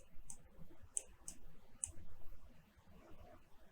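A computer mouse clicks a few sharp, isolated times while working in CorelDRAW, quiet and close against a faint room background with no talk.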